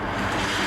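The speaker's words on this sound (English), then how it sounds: "90-mile-per-hour winds on the airbase." Hurricane Hugo's roaring 90-mile-per-hour winds on an airbase near Charleston, a loud, steady broadband rush of wind buffeting the microphone with no break.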